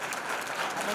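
Brief burst of audience clapping at a community talent award ceremony, dense and fairly loud, with some crowd noise mixed in over its short span.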